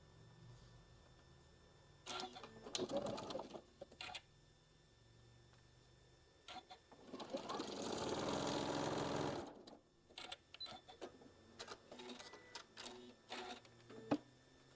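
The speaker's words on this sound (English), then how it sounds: "I'm going to go ahead and get it sewed onto the end here" A sewing machine stitches a quilted table runner piece. A short burst is followed later by a longer steady run of about two and a half seconds, with clicks and fabric handling in between.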